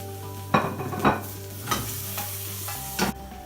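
Garlic and ginger stir-frying in hot oil for Chinese chicken fried rice, a continuous sizzle broken by four distinct spatula scrapes and tosses, close and fairly loud with a low hum beneath.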